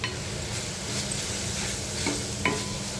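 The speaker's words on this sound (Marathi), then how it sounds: "आता हे मसाले सुद्धा आपण व्यवस्थित परतून" Turmeric, coriander powder, garam masala, Kashmiri chilli powder and ghati masala sauté in a pan for a bottle gourd curry, a steady dense sizzle with stirring scrapes and a couple of sharp utensil clinks near the end.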